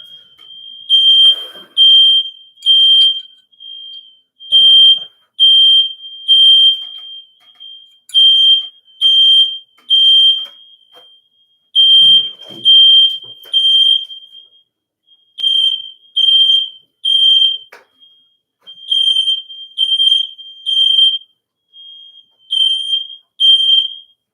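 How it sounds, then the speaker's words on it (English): A smoke alarm shrieks in loud, piercing, repeated beeps, in groups of three with short pauses, alongside faint rustling and clatter. "I'm just fanning the smoke away from the smoke alarm"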